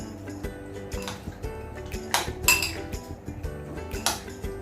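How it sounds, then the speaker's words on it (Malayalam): Chicken and spices being stirred in a pot for pakoda, with repeated metallic clinks and scrapes of a spoon against the pan, moderately close and steady, with no talking. "നല്ലപോലെ ഇളക്കി കൊടുക്കുന്നുണ്ട്."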